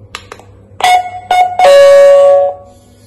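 Chime from a Tuya smart camera doorbell: a few short clicks, then bright ringing tones, the last one sustained and loud before fading, heard up close with no talking.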